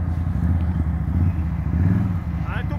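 A Can-Am side-by-side off-road vehicle's engine is blipped close by with short throttle rises over a low, uneven idle, as people talk nearby.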